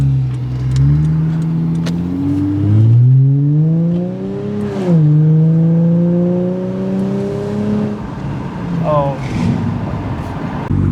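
A cheap vandalized car pulls out onto the road and accelerates, its engine note rising and falling through several gear changes, loud and close from inside the cabin, with someone briefly talking over it.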